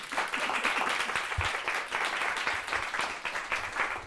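Dense, sustained applause from a conference audience at a retrofit housing event in Knowle West, Bristol; many hands clapping together in a steady, moderately loud wash that continues without a break and without speech.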